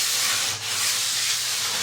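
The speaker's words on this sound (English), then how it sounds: "So I'm going back to the sandpaper to make it smoother." Sandpaper rubbed steadily against a ski sidewall to smooth it, a continuous close, loud abrasive hiss with only a brief dip partway through and no talking.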